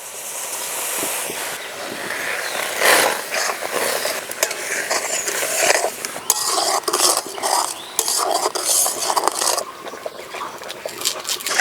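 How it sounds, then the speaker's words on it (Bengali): Mango puree being stirred with sugar in a pan, a spoon scraping and clinking steadily against the metal with a faint sizzle underneath, continuous and close. "একসঙ্গে চিনিটা দিয়ে জাল করে নেব।"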